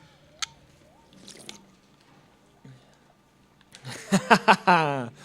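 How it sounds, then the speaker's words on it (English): After mostly quiet Rayman Revolution game sounds, a close run of about five quick gulping swallows is heard, as if someone is drinking. "I'm sorry for drinking sounds"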